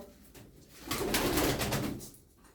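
A pigeon in a loft of tumbler birds lets out a single drawn-out coo, rising and fading, near and clear over faint room noise.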